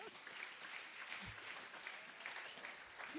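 A church congregation claps in a steady, fairly faint round of applause at a worship service, with a voice speaking over it.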